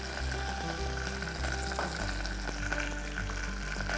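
Curry leaves and green chillies tempering in hot oil for temple-style pulihora, a steady sizzle and crackle as the mix is stirred in the pan, with a low hum underneath and no talking.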